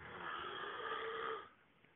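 A loud, steady snore rasps on for about a second and a half, then breaks off into quiet.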